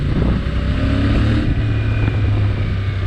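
A CF Moto 450 MT 2025 adventure motorcycle rides along with a steady, loud engine drone and wind rush, its tone shifting slightly midway as it covers the last stretch of road.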